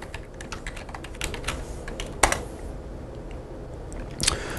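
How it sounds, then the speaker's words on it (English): Typing on a computer keyboard while entering a page title in a web template editor, a steady run of quiet key clicks with a couple of sharper, louder keystrokes standing out, no talking. "Let's type the title,"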